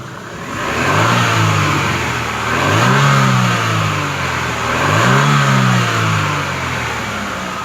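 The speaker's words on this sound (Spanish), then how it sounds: "Voy a acelerar el motor para que observen los cambios que se llevan a cabo" A Chevrolet Aveo engine with a computer fault revs up three times in steady waves, rising and falling close by with no talk over it.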